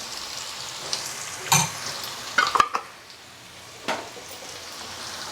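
Ginger garlic fries in a pan for Andhra-style fish curry, a soft sizzle broken by a few sharp close stirring scrapes and clinks, then quieter frying, with no voice.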